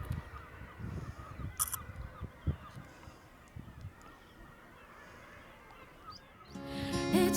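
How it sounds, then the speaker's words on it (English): Birds honking and calling at a seaside cliff at South Stack on a sunset evening, a busy, overlapping chorus of goose-like honks and cries, with a louder, denser burst of calls near the end. "The birds are making so much noise."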